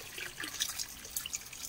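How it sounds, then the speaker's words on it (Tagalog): Mountain spring water flows and trickles in a continuous soft splashing stream, faint and close, with bright gurgles over a quiet background. "Yung tubig na yan ay galing sa bundok."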